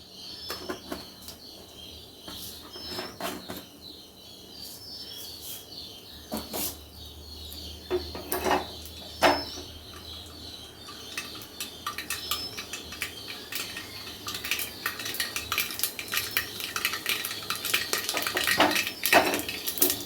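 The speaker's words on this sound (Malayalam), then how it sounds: "കടുക് നല്ലോണം പൊട്ടിയിട്ടുണ്ട്" Mustard seeds splutter and pop in hot coconut oil in a home kitchen pan, sharp scattered crackles that start sparse and grow into a busy, rapid popping toward the end, with no talking.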